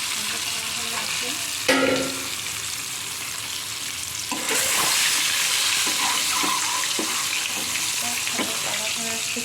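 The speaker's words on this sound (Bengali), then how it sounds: "তারপর হচ্ছে এখানে আমি ডিমগুলো দিয়ে দেবো।" Eggs frying in a hot pan give a loud, continuous sizzle, with a clatter near the start and a surge of hissing midway, plus scattered scraping sounds from stirring.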